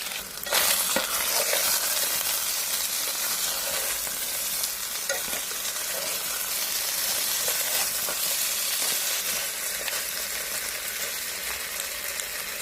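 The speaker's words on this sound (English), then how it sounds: "As the beef browned in a large pot, Lulu skillfully added diced onions," Beef browns and sizzles in a large pot with diced onions, potatoes and carrots, a steady close frying hiss with faint stirring scrapes and no talk.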